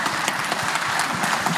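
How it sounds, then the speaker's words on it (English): Audience applause at a live podcast-style taping, a steady wash of many hands clapping close by for the whole short stretch, with no voices over it. "Applause."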